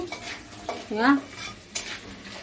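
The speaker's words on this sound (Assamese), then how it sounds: "এতিয়া দাদাই চাটনিখন বনাই আছে" Crab chutney cooks in a pan with short scraping stirs and a soft sizzle, a few quick utensil strokes against the metal, close and fairly loud.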